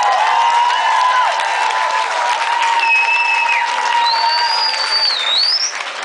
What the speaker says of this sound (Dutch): graag al een heel groot applaus voor de gitarist Erwin